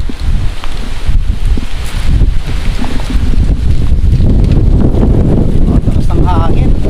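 Strong gusty wind buffeting the microphone at Amana Water Park in Pandi, Bulacan, roaring and uneven for several seconds, loud and close.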